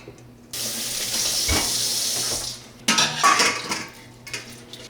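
A kitchen tap runs into a sink for a couple of seconds while potatoes are washed for boiling, then water splashes again amid clinks of dishes and utensils, close and moderately loud.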